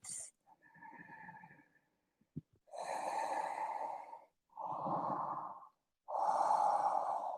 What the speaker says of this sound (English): 5 more breaths.